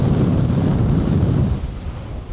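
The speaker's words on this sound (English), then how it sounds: "It's just incredibly windy." Strong wind buffets the microphone on a sunny day at a coastal holiday resort in Dorset, a loud steady low rumble that eases slightly near the end, with no talking.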